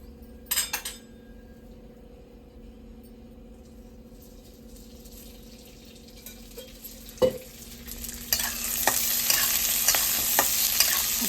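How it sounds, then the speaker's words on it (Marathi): Fresh pigeon pea seeds go into a pan with a little oil over a gas flame. After a quiet start with a brief clink, a loud, close sizzle with stirring scrapes takes over in the last few seconds. "थोडंसं तेल टाकते मी दाणे भाजायला"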